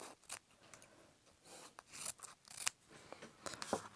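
Scissors snipping material for a kintsugi-inspired pottery repair, a series of close, crisp cuts at an uneven pace with light rubbing and rustling in between, quiet and with no talking.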